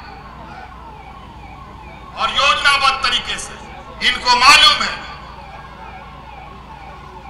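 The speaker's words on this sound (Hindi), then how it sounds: "एम्बुलेंस को निकाल दो, थोड़ा रास्ता भाई लोग खाली कर दो, एम्बुलेंस को निकालने दो।" An ambulance siren sounds amid a dense crowd at an outdoor political rally, two loud wailing bursts rising over steady crowd noise while someone speaks over a loudspeaker.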